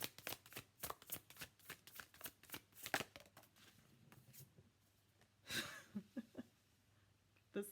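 Tarot cards shuffled close up, a string of quick riffling flicks for a few seconds, then a lull and a few louder scattered snaps and rustles as a card is drawn, with soft breathing in the background.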